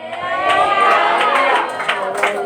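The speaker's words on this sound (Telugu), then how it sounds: "చప్పట్లు గట్టిగా రాలేదు" A church congregation claps together in a short burst of mixed applause and crowd noise during a Bible study, fairly loud and diffuse, with voices murmuring underneath.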